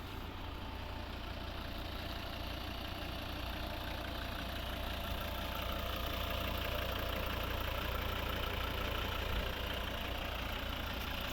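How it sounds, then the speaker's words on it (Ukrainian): A 2011 Volvo V70 with a 2.0 D3 diesel engine and six-speed manual idles steadily, a quiet, even engine hum running alone at constant loudness with no talk. "Класна шумка, тихо працює двигун."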